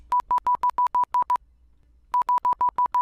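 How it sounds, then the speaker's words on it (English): A telephone gives a rapid series of identical electronic tone pulses, eight quick beeps, a second of silence, then six more, clean and close. "It's the phone."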